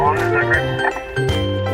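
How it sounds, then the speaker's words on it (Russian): A walkie-talkie call signal in a cartoon about a tow truck fixing planes and helicopters, heard as a steady tonal pattern of stepped pitches that shifts midway and repeats, loud and close with no talk over it. "Оу, это рация Гектора."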